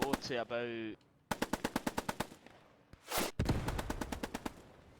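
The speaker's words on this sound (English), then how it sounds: "they're firing at this little Bren carrier over here, which is laying down some suppressive fire" Bren carrier machine gun laying down suppressive fire in the Squad 44 game: rapid evenly spaced bursts of gunfire, loud and close, with a brief louder blast and a voice heard early on.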